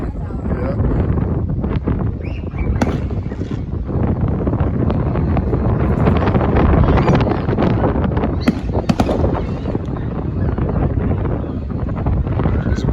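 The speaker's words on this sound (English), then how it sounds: "It's windy today, tonight." Steady wind blows hard across the microphone on a night with fireworks, a loud, constant rumbling rush with a few faint sharp pops far off in the background.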